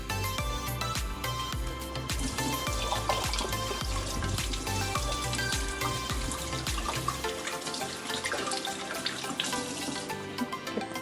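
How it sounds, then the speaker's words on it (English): Hands rubbed and rinsed under a running kitchen tap, a steady close splash of water pouring into a sink for several seconds, no voices. "Give these hands a little wash."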